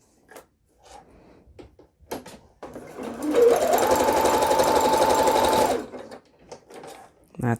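A sewing machine runs a zigzag stitch with the thread tension set high, a loud, steady mechanical whir lasting a few seconds close by, framed by brief talk and small handling clicks before and after.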